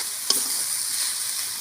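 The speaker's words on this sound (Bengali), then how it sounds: "কড়াই শাক ভাজবো" Kadai saag greens fry in a pan with a steady soft sizzle, interrupted by one brief clink of a stirring spoon near the start, with no voices.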